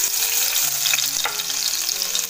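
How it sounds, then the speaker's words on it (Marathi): Ginger and garlic frying in hot oil in a kadhai, a steady close sizzle and crackle that holds for the whole moment with no talking. "तेल चांगलं गरम झाले. सगळ्यात आधी टाकते मी हे बघा, हे आलं आणि लसूण."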